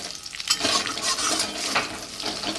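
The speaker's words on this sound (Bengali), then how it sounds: "আর কিছুটা সকালে ভাত দিয়ে খাওয়ার জন্য ফ্রাই করব বলে ভাজা বসিয়েছি" Small mourola fish frying in a pan for a crisp breakfast side, with a bright crackling sizzle and clinks and scrapes of stirring, close up and without voices.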